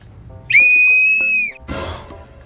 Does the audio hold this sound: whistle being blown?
yes